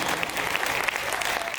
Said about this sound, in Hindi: तालियां जरा जोरदार बजा दो साहब